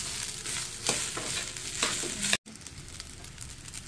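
Fried rice with peas, carrots and corn sizzles and crackles in a pan, with intermittent scraping strokes as it is stirred; a brief dropout occurs partway through before steady frying resumes.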